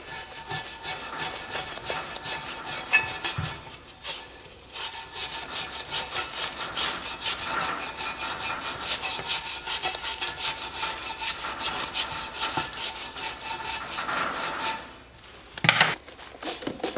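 Someone scrubs a car part soaked in engine degreaser with quick, steady rasping strokes that run almost without a break, then pause briefly near the end.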